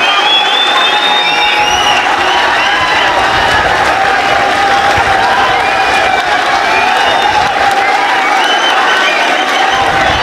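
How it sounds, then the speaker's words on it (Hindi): Loud, sustained standing ovation from a large crowd at a poetry gathering at BHU, dense clapping mixed with cheers and whoops, continuing without pause. "सब एक बार खड़े होकर इस्तकबाल करें। इस्तकबाल करें, जोरदार तालियां।"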